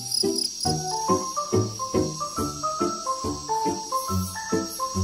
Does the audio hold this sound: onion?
no